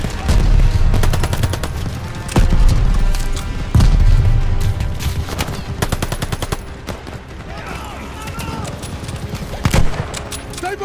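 Dense Call of Duty Vanguard battlefield gunfire: sustained machine-gun bursts and rapid rifle shots, loud and near, with heavy booms and shouted voices over the fight.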